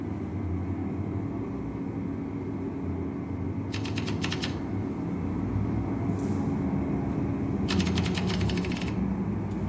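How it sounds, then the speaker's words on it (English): Typewriter keys clatter in two short bursts of rapid strikes over a steady low rumbling background, with no voices. "you can't stop typing"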